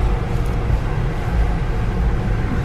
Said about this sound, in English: Welcome to the car wash.